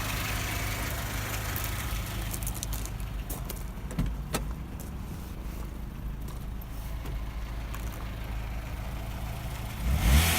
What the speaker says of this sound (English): So here's the engine ticking over nicely.